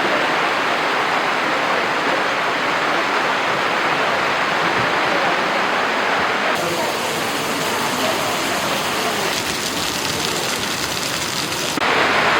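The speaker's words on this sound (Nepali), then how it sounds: "कन्सर्ट हुँदै गर्दा एउटा ठुलो पानी आएको छ" Heavy rain pouring down during an outdoor concert, a loud dense hiss that runs steadily the whole time, with a voice speaking faintly beneath it.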